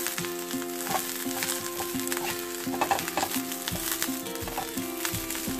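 Curry leaves sauté in hot oil in a pan, a steady close sizzle with crackling pops and occasional stirring scrapes running throughout.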